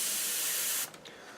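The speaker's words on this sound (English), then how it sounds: "Coming through the airbrush fine" An airbrush sprays paint onto a Tamiya Skyline model car body in a steady, close hiss that cuts off abruptly near the end, leaving faint hose and room noise.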